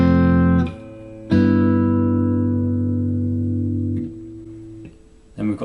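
Sustained guitar chords ring out, moving from an F to an unusual G6 shape, each chord strummed and left to sustain clearly, with a short gap and faint rustle between them.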